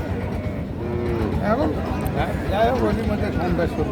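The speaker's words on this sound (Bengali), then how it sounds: "শাহিওল জাতের সার বাছুর দেখতে মার্শাল্লাহ খুব সুন্দর" Sahiwal cattle at a village livestock market, a calf and cow lowing in drawn-out moos close by, mixed with constant crowd chatter and people talking nearby.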